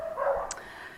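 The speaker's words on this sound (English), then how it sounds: "we've got plenty of dogs on the estate. Can you hear them?" A single short dog bark on a housing estate in winter, heard from a moderate distance against quiet outdoor background, no talk.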